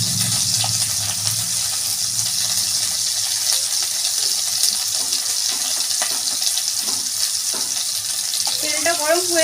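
Whole garam masala spices crackle and sizzle in hot oil as a fish curry is started, a steady, close frying hiss with small pops and a faint voice near the end.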